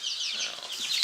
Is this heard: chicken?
yes